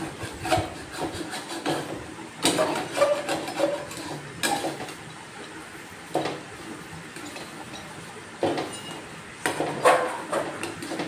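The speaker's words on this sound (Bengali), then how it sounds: "লেমন জুস দিয়ে এবার এটাকে ভালোভাবে নাড়াচাড়া করে নামিয়ে নেব।" A spoon scrapes and knocks in a pan as filling is stirred with lemon juice, in irregular bursts of rubbing and clattering, close by with brief pauses between strokes.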